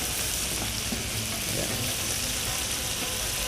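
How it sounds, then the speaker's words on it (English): Steak sears in a hot pan for a Steak Diane, giving a steady, loud, dense sizzle and crackle of frying fat that continues unbroken throughout with no talk. "So now that will give it a nice sear and a beautiful caramelization"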